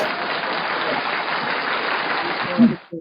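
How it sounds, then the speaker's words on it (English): Audience applause for Dr. Queen: a dense, steady wash of many hands clapping, sustained for about three seconds before it cuts off, with a brief voice at the very end. "we want to applaud Dr. Queen"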